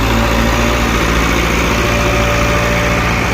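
A tractor engine strains hard while hauling sand, droning loud, close and unbroken with a steady vibrating hum and no talk over it.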